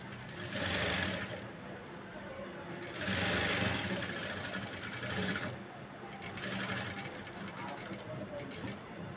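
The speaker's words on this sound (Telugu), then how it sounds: "రివర్స్ పార్ట్లో కుడుతున్నాను" A sewing machine stitching a Punjabi dress top, several bursts of rapid whirring needle runs separated by pauses, close and moderately loud, with a voice talking quietly underneath.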